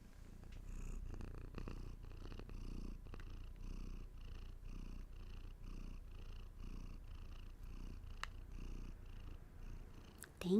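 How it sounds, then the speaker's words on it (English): A cat purring close up, a steady rhythmic rumble pulsing with each breath in and out, continuing for several seconds without talk. "hey, you want to bring that purr back up?"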